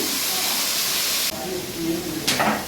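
Mutton hits a hot pan with a loud, steady hiss of sizzling fat. A sudden shift partway through gives way to softer sizzling, then a brief renewed burst of hiss.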